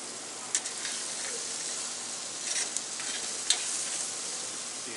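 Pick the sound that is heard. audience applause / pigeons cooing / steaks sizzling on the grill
steaks sizzling on the grill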